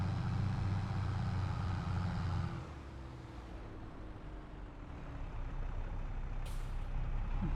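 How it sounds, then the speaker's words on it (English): A truck in Farming Simulator 22 runs with a low engine rumble, then releases its air brakes in a loud hiss that drops away, followed by a steady idle and a short, faint high hiss near the end. "Brakes on, slow right down here so we don't tip over."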